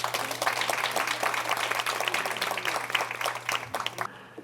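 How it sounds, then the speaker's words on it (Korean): Applause from the audience at a Seoul city council education committee forum, a dense steady patter of many hands clapping at moderate volume for about four seconds, then stopping abruptly. "큰 박수 부탁드립니다"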